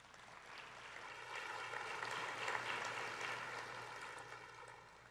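Audience applause at a national arts, science and literature awards ceremony, a dense, continuous wash of many hands clapping that swells slightly in the middle and holds steady throughout, with no voices over it.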